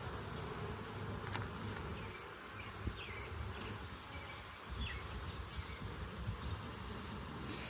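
Honey bees, drones among them, hum in a soft, continuous buzz around an open hive frame during a June inspection, faint and steady with no talking.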